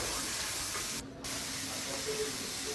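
Crabs fry with soy sauce and tomato sauce in a pan, giving a loud, steady, close sizzling hiss that fills the whole moment with only a brief dip.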